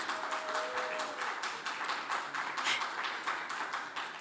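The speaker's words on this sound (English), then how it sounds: "Let's get a round of applause, please." A keynote audience claps for its event leader, a steady round of applause from many hands at moderate level that continues throughout without any speech over it.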